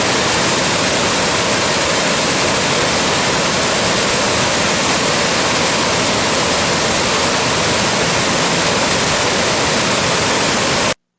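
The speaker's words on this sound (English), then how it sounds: "you just want them to hear the water, hear the water flowing" Water flows steadily in a clear natural stream, a loud, continuous, even rush with no pauses and no voices.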